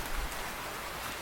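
Rain falls in a cartoon as birds fly through it in a forest, a dense, even hiss of steady rainfall with no voices over it.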